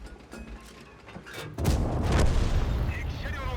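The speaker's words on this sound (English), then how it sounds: "Hellcat's trying to shoot me from the side" A tank cannon fires in the World of Tanks video game as one sudden, heavy boom. A rumbling tail of mechanical battle noise follows, with a voice speaking just before the shot.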